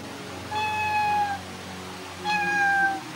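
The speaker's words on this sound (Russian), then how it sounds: "бежала за мной и мяукала" A house cat gives two clear, drawn-out meows close by while following someone in the morning, each call about a second long with a short gap between.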